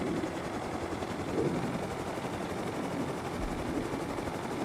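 Steady helicopter rotor drone in the video game Rust, a continuous mid-level whirring thrum with a low engine rumble that holds evenly throughout, no other sounds standing out.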